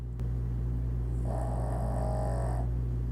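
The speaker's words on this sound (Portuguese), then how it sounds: "continua dormindo e roncando" A sleeping person snores in one long, drawn-out tonal breath over a steady low hum, close and moderately loud, with no speech.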